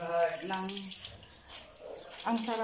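Water runs steadily from a tap while a person talks over it in short phrases.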